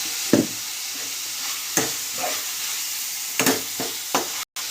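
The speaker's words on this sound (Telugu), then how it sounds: "ఇప్పుడు అది వేగేంత వరకు మనం సిమ్లో కాసేపు వేగనిద్దాం" Food fries gently in a pan over a low flame, a soft steady sizzle broken by several short scraping stirs, close by with no voices.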